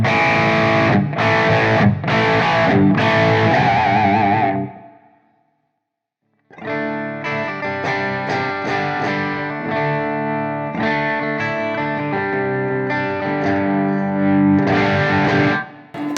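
Electric guitar through a Blackstar ID:X 50 amp, loud driven chords with a chorus-like shimmer, then a short silence before a second strummed passage at a different gain set with the guitar's volume control.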